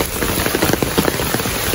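Light rain falling at night, a soft, continuous patter of drops on a surface with scattered brighter taps, steady and close, without talk.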